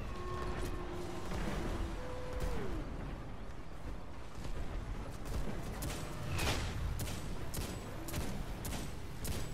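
A rocket launcher fires during a Destiny 2 public event against the Arsenal Walker, amid steady battle noise and repeated sharp blasts of gunfire, with a louder burst near the middle and no talking.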